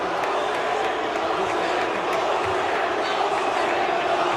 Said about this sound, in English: I can't believe there's boos.